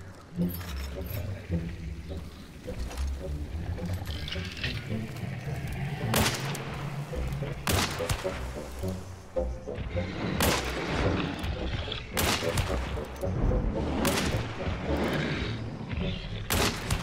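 Bursts of gunfire in the game Hunt: Showdown crack repeatedly over a busy background, shots clustered in volleys with short gaps between them.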